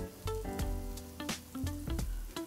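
Annatto powder hits a hot frying pan for pancit palabok, giving a broad hiss of sizzling with brief clinks and scrapes of stirring scattered through, close and fairly steady.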